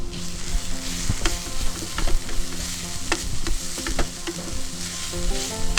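Red spinach with salt and grated coconut stirred in a hot pan, a loud close sizzle with repeated rhythmic scraping strokes of the spoon throughout.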